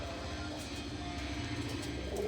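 A pigeon coos low and soft in a rhythmic pulse, close by, with a faint steady background hum and no speech.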